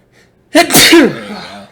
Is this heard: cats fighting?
no